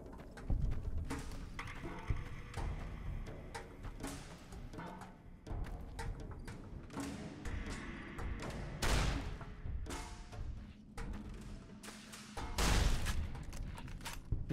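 A shotgun fired in Fallout: New Vegas against geckos at Goodsprings, several heavy booming blasts spread irregularly over the stretch amid game sound effects, moderately loud.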